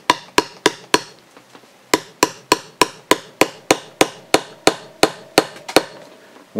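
Sharp, rhythmic hammer strikes drive a prop shaft seal into the lower unit of a Yamaha 225 HPDI outboard, about twenty close, loud metallic blows with a brief pause partway through.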